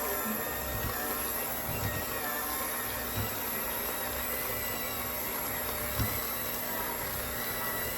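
An electric hand mixer beats a no-bake fluffernutter pie filling with Cool Whip in a bowl, giving a continuous, fairly loud motor whir with no talking.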